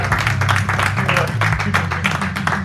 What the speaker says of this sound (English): Give Chris a big round of applause for